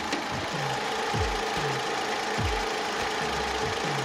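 A Kia K7's 2.7 engine idles steadily with a low, even hum and a faint rhythmic knock, with no voices over it.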